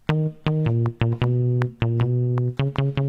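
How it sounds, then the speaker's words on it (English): A punchy synthesized bass line plays a short run of sustained, buzzy notes with sharp attacks, shifting between a few pitches, loud and alone. "and then the bass line goes like this."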